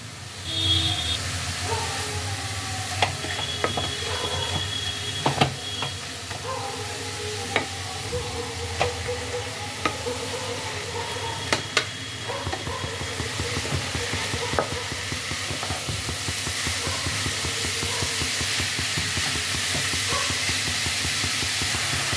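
Grated carrots cook with a pinch of salt in a pan for carrot halwa, sizzling continuously and close by while a spatula clicks and scrapes in repeated stirring strokes.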